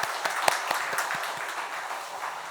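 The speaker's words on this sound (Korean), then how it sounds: "우리 하나님께 감사와 찬양의 박수 올려드리겠습니다" A church congregation applauds during an early-morning prayer service, with scattered individual claps at first that merge into a brief, moderate round of clapping in a reverberant room.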